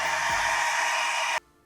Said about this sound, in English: Let's go ahead with a hair dryer,